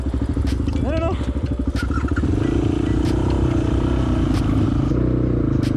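An enduro motorcycle rides along a dry riverbed in Wadi Helo, its engine loud and close, revving and shifting pitch, while a voice is heard over it.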